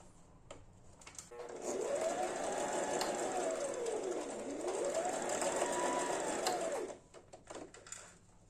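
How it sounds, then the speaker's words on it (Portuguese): A domestic sewing machine runs steadily for about five seconds, stitching a seam on small fabric squares, with a high rapid whir and a slowly rising and falling motor pitch, near and alone. "Ponho o quadradinho assim e costuro um pé de máquina"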